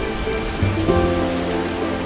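Steady monsoon rain in India hisses evenly across the whole clip, a dense wash of falling water with a few louder drops and no voices.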